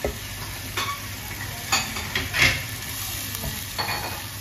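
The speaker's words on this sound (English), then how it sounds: "cook this tomato puree until the oil separates from the masala" Tomato puree cooking in ghee-based masala for dal makhani over a low flame, with a soft continuous sizzle and intermittent scraping stirs of a spoon against the pan, close and moderately quiet.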